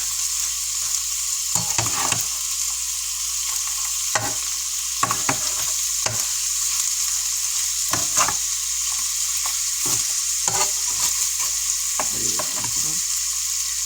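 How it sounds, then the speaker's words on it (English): Salisbury steak patties fry in a hot pan with a constant loud sizzle, broken by scattered scraping stirs and taps of a utensil against the pan, with no voices. "Now that we got it frying good and we got our pan hot"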